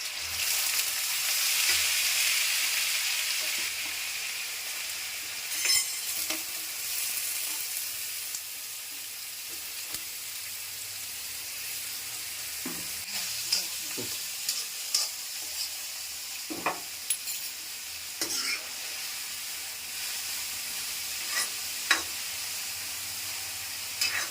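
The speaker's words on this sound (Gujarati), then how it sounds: "તો તેલ આવી ગયું છે તો હવે એમાં જીરું નાખી દઈએ" Cumin seeds sizzle in hot oil in a pan, a loud hissing crackle that slowly settles, with scattered clicks and scrapes of a spoon against the pan.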